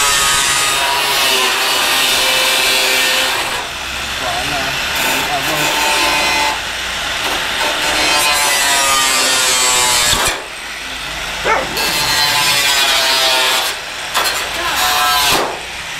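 An improvised tool saws through material in place of a proper cutter, giving a harsh, loud, continuous grinding rasp that pauses briefly and then resumes, with a voice talking over it.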